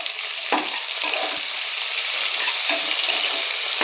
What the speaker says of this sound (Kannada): ಈರುಳ್ಳಿ ಸ್ವಲ್ಪ ಸಾಫ್ಟ್ ಆಗೋವರೆಗೂ ಚೆನ್ನಾಗಿ ಫ್ರೈ ಮಾಡ್ಕೊಬೇಕಾಗುತ್ತೆ.